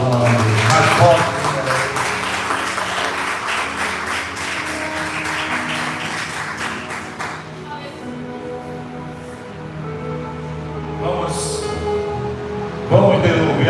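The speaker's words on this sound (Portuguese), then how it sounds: "As palmas bem fortes que exaltam o nome de Deus." A church congregation claps loudly and steadily in rhythm over music and singing, the clapping densest in the first half before easing off.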